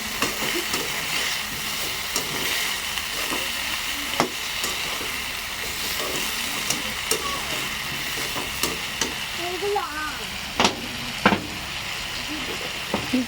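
Spice paste sizzling and frying in oil in a pan, a steady dense crackle throughout with occasional sharper pops and stirring scrapes, close and moderately loud, no talk.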